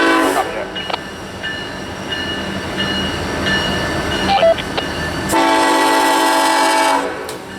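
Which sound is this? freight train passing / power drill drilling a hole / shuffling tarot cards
freight train passing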